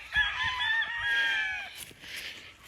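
Gamefowl cocks in a yard give loud, close honking calls with a drawn-out, rooster-like squawk, then fainter calls follow; no one speaks.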